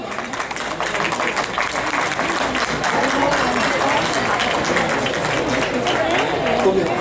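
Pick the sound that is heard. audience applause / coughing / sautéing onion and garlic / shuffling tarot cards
audience applause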